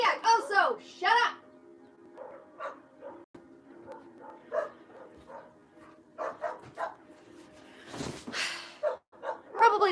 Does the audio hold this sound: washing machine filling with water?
no